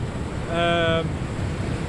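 Surf washes steadily onto the rocky coastline at Nash Point, Wales, with wind buffeting the microphone, and a short tonal whine rises above the broadband roar near the middle.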